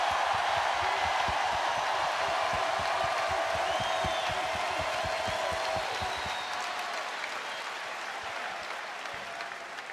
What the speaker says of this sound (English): You owe him a big round of applause.